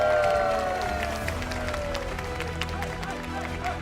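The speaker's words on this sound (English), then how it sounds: "let's give a big round of applause for Maxi." Crowd applause and cheering at a Pokémon regional championship event in Birmingham, a steady wash of clapping from a large audience under a voice on the PA.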